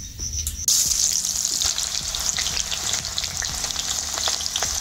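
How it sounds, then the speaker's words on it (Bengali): Whole garam masala spices sizzle steadily in hot oil in a kadai, with a sharp burst as they hit the oil, then a continuous close crackle and occasional stirring clinks. "তেলের মধ্যে দিয়ে দিচ্ছি গোটা গরম মশলা"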